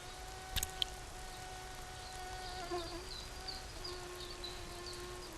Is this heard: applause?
no